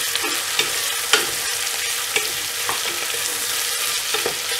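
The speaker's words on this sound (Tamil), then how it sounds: "வெங்காயத்தை ஆட் பண்ணிவிட்டு இது நல்லா வந்து ஒரு கோல்டன் ப்ரௌன் கலரில் வர வரைக்கும் இதை நல்லா ஃப்ரை" Onions frying in a pot for coconut milk pulao, a steady broadband sizzle with occasional scrape-and-stir knocks of a spoon against the pot, close and fairly loud, no voices.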